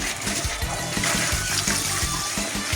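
Wine is poured into a still, a steady loud gushing and splashing of liquid with a rhythmic glugging pulse throughout.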